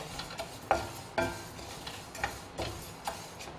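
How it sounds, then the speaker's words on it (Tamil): Dry lentils rattle and scrape in a hot pan over a medium flame, stirred in a steady rhythm of soft clicks and shuffles roughly twice a second. "அதில் நம்ம பருப்பு போட்டுக்கலாம். நல்லா மீடியம் ஃப்ளேமில் வச்சு இது வறுத்துடலாங்க"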